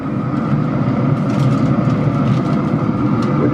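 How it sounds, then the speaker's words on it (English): Wind rushes and buffets against the microphone outdoors beside a Traeger smoker on a windy morning, a dense, continuous low roar with slight gusting, loud and close, no speech. "you're gonna have to excuse the wind noise"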